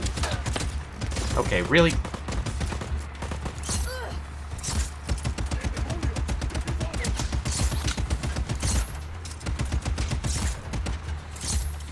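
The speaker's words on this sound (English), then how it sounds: "How are you still shooting?" Gunfire in the video game Just Cause 4 rattles on without pause, dense rapid automatic bursts layered over a low rumble, with someone talking briefly over it.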